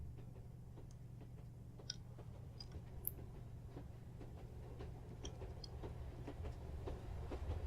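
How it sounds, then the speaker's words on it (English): A train passes in Mad Tower Tycoon as a faint, steady low rumble with light, irregular clicking and ticking on top, gradually swelling slightly and heard alone without voices. "I like the sound of the train"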